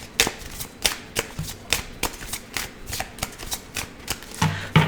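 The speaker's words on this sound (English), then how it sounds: "I'm going to put these right here, and I'm going to shuffle these." A deck from the Tarot of the Magical Forest being shuffled close by, with a steady run of crisp riffling bursts and card slaps about every half second, no talking.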